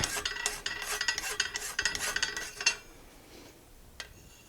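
A Magic Cut hand file rasps on cold mild steel in quick, rhythmic strokes, close and bright, stopping after a few seconds, followed by a single light knock.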